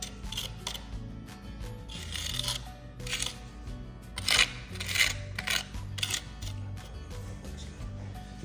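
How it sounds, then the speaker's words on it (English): A steel trowel rubs and scrapes across wet concrete during a foundation crack repair, giving repeated gritty strokes at close range with no talk. "Zach's getting troweling now"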